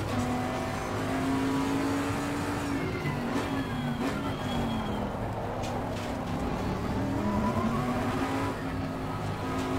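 A race car engine in Assetto Corsa Competizione drones continuously with rising and falling revs through gear changes, loud and close throughout, with occasional tire noise.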